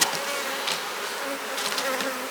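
A honey bee colony in a beekeeping hive buzzing, a dense steady hum of many bees up close with a few individual bees flying past, no talk.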